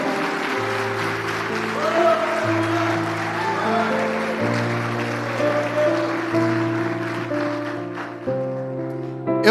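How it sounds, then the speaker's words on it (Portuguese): A church congregation claps together at length under sustained organ or keyboard chords, a steady wash of applause mixed with the music. "Aplauda o nome do Senhor."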